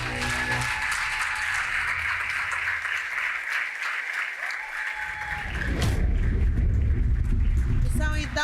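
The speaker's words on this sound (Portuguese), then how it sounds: "Eu vou pedir uma grande salva de palmas para o" Applause for ISPECA at the final of a competition, loud and sustained clapping from the audience that swells midway with a roar of cheering and talk mixed in.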